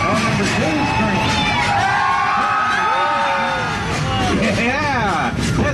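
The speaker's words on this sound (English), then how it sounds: "Yeah, that's a pretty good screaming, y'all." Riders scream and whoop together on a theme park train ride at Silver Dollar City, a loud sustained chorus of many voices with rising and falling shrieks throughout.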